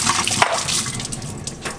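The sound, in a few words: washing fresh herbs under running tap water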